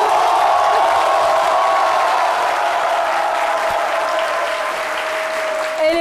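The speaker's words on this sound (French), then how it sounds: "Ici, on a Zena Alissar Khalil, que je vous demande d'applaudir." A studio audience claps loudly and steadily through a televised show, a dense continuous wash of applause with a faint sustained tone running underneath.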